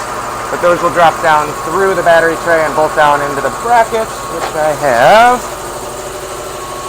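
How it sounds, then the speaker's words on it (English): An air compressor runs steadily in a workshop during a Harley Evo Sportster chopper battery-box build. Its low, constant mechanical drone sits under a man's close, continuous talking. "sorry about the compressor noise"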